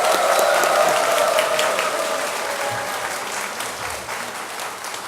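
A church congregation applauds steadily for several seconds, dense clapping that gradually eases off slightly toward the end.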